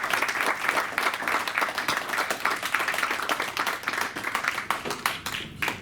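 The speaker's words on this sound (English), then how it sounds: "I'd just like to give a round of applause to Coach Martinez," A room applauds a basketball coach at a team award dinner, a lively round of close, uneven hand claps with individual sharp slaps standing out, continuing steadily throughout.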